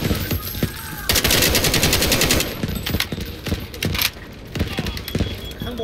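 Rapid gunfire from the shooter game Delta Force, with dense bursts of automatic fire and sharp single shots crackling close and loud throughout, briefly easing before renewed volleys.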